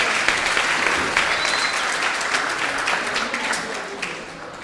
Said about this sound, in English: So a round of applause for Anita, please.